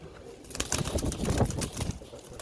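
A flurry of wing flaps beats close by for a second or two as a Nott pigeon is released, with soft pigeon sounds around it.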